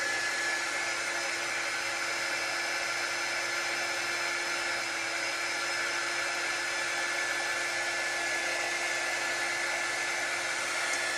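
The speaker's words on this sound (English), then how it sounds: "you certainly can dry this using a hair dryer on a cool setting." A hair dryer on its cool setting blows steadily over wet chalk paste, a constant close whirring hiss that holds at an even level throughout with no talking.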